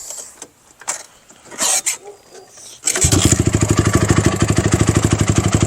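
Honda TRX450R ATV engine idling steadily and close by, a loud even rapid chugging pulse that kicks in partway through after quieter handling noises and a brief voice.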